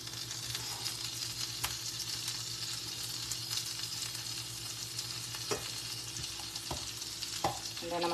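Burger patties frying in butter on a hot griddle for patty melts give a constant, even sizzle with a few faint clicks and taps of a spatula.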